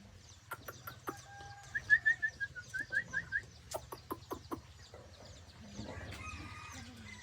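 Hens on a farm cluck in a quick rhythmic run of close, distinct calls, with scattered clicks and pecking noises around them and a faint low hum underneath.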